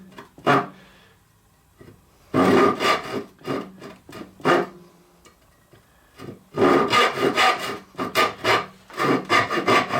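A hand saw cuts a wooden dovetail joint, with bursts of rasping strokes close up, a few spaced strokes first, then quicker runs of back-and-forth sawing.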